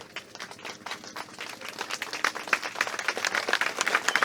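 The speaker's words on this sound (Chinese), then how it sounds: "让我们用热烈的掌声感谢林小姐。" An auction audience gives warm applause, many hands clapping in a dense patter that swells louder toward the end, with no voices over it.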